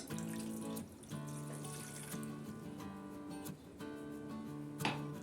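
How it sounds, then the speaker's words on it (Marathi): Water is poured into a glass of fennel sharbat, a faint steady splashing trickle running through the moment with short breaks, under music-like tones and no talk. "पाणी टाकायचे"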